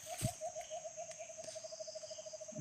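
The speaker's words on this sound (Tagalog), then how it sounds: "may mga ibon." Soft rhythmic hooting from a bird at night, repeated steadily over a constant high insect drone, fairly faint and distant.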